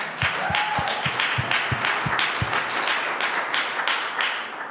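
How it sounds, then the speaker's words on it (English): A church congregation applauds steadily, with a few sharp, rhythmic nearby claps standing out at the start before blending into the wash of clapping. "Can we give Ken a round of applause?"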